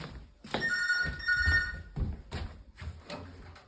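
A phone rings close by in two trilling bursts, its electronic bell tone repeating with short pauses and a soft thump in between.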